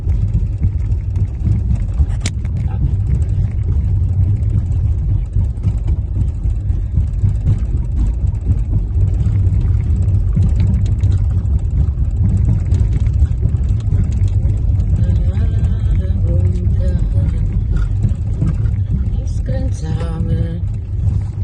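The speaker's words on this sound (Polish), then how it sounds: "Taki krótki spacerek samochodem." A car creeps along rough rural roads in first gear, giving a continuous, close, low engine rumble with road noise that stays loud and steady throughout.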